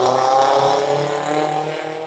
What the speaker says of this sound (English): And a loud car motorcycle. driving down the street.